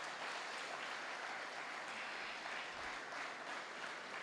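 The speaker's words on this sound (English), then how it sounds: "Give him a round of applause." An audience at a university project commissioning ceremony in Ghana applauds, a dense, steady wash of clapping from a crowd that holds evenly for several seconds.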